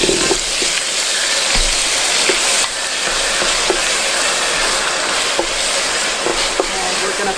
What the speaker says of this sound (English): now I'm gonna add in the onions